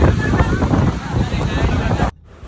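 Strong wind buffets the microphone at a beach on Pakistan's coast, a loud continuous roar with a washing surf-like rush beneath it, cutting off abruptly near the end.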